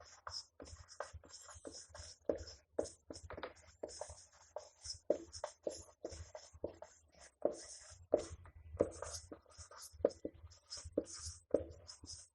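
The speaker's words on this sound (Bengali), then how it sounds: "লিখছি সেটা" A geometry problem about a right triangle is written out by hand, producing quick, rhythmic scratching strokes with brief pauses, close and clear.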